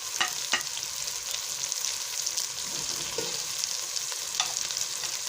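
Tomatoes with whole red chillies sizzling and frying in a pan for kadhi pakora, a steady close hiss with occasional brief pops and stirring scrapes throughout.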